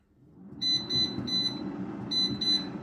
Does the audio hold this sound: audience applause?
no